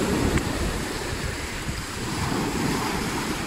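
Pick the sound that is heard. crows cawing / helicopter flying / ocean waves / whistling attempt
ocean waves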